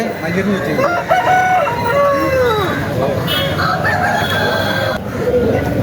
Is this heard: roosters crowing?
yes